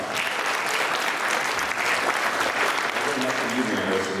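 Continuous crowd applause at a community unity dinner, thick and steady, with a voice starting to speak over the clapping toward the end.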